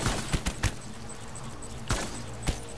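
Gunshots in Death Stranding: a handful of sharp, close bangs spaced irregularly, three in quick succession, then two more after a quiet pause.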